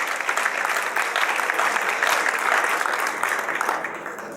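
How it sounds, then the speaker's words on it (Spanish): Audience applause fills a conference hall in honour of a doctor receiving special recognition at an international physical education congress, steady, dense clapping throughout that tapers slightly at the end. "Recibe también un reconocimiento especial y un fuerte aplauso de esta sala"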